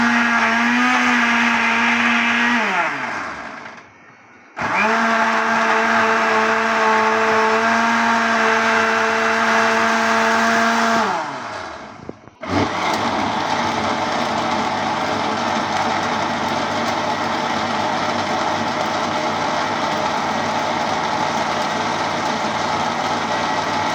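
A kitchen blender grinds chutney in loud, steady bursts: two runs that wind down to brief pauses, then a longer continuous whir, with no talking.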